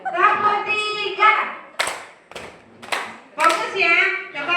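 A group of teachers claps their hands in a rhythmic counting pattern during a school counselling training session. A few sharp, near claps are separated by chanted and spoken voices.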